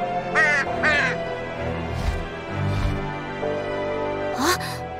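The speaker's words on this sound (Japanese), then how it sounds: "あ、あのカラスって。" Crow cawing in the video game Dragon Star Varnir, two quick harsh caws near the start and another later, over a sustained musical background with low tones.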